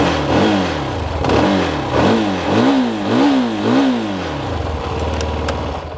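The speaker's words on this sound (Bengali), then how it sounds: "বাইকটা স্টার্ট করি।" A CFMOTO 300SR 300cc motorcycle starts up and its exhaust revs in a series of rising and falling blips, loud and close, before settling toward idle.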